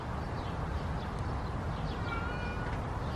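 Short plaintive meows from a feral cat come a few times in succession, fairly faint against continuous outdoor background noise.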